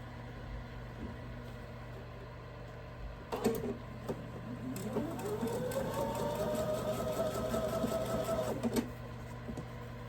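A sewing machine pieces a Santa pixel quilt together, starting with short bursts and then running in a steady, faster whir for several seconds. The sound is quiet and close, over a low background hum.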